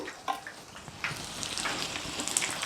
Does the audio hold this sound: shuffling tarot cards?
no